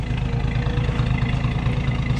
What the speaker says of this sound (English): This 51 fires right up. Listen to this motor.